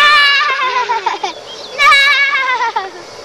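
Several children imitate a horse's whinny with their voices, making two wavering, high-pitched calls close up, one after the other.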